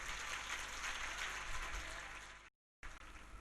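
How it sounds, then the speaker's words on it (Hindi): An audience claps together at a Hindu Bhagwat Katha religious discourse, a dense, fairly faint burst of applause lasting a couple of seconds before cutting off briefly and resuming. "तालियां बजाओ यार।"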